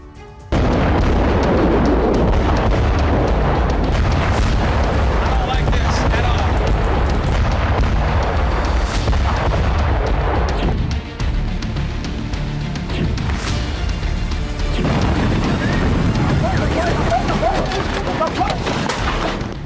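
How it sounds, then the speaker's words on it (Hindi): A loud explosion from the Russia-Ukraine war booms and rumbles continuously, dense and heavy, while a voice talks over it. "फिर भी हुआ एक जोरदार धमाका।"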